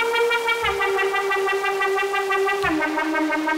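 A high lead synth patch on an Elektron Digitone plays sustained bright notes with a rich stack of harmonics, moving to a new pitch midway, heard alone and steady at moderate loudness.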